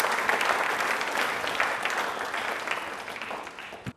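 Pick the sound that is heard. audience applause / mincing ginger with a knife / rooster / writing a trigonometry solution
audience applause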